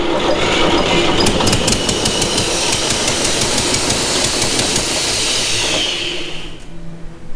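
An Ingersoll Rand air compressor engine runs steadily with a bad exhaust gasket, giving a loud, continuous rough drone with rapid ticking pulses. It fades toward the end.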